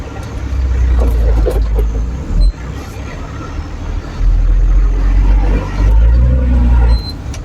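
A four-wheel drive labours through soft sand on Sandy Cape, Fraser Island, in third gear, its engine droning low and steady close by with brief dips in load and faint road-vehicle rumble throughout.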